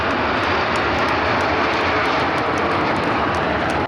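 An MB-339 jet trainer at an air show roars with a loud, continuous broadband engine rush that holds steady throughout as the engine winds down.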